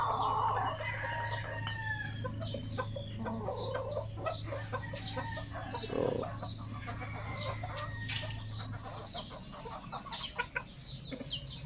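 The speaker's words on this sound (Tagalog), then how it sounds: "Ang ginagawa ng tandang na yan." Backyard chickens in a home yard, a rooster crowing among clucking hens and other fowl, with a steady low hum underneath and occasional faint voices.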